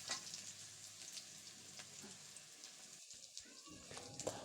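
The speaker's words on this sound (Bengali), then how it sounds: "এই তো কিছু রসুন কুচি দিয়ে নিলাম তেলের মধ্যে" Chopped garlic fries in hot oil with a soft, continuous sizzle, quiet and close, with a few faint clinks of stirring near the end.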